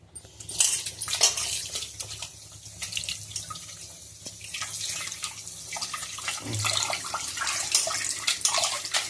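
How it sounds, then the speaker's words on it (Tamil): Raw chicken being rinsed under a running kitchen tap, water splashing steadily in a sink for several seconds, close and fairly loud with occasional louder gushes, no talking. "சிக்கன் நல்லா அலசிக்கலாம்."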